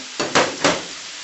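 Minced garlic hits a hot frying pan, giving two quick, loud bursts of sizzling that fade into a softer, steady hiss, with no talking.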